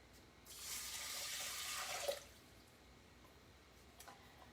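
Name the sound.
pouring two cups of water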